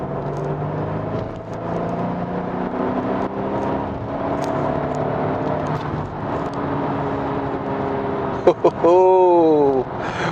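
A 2021 Kia Sorento SUV with its 2.5-liter turbocharged engine hums steadily while driving, a smooth drone running throughout with a brief rising rev near the end, under faint road noise.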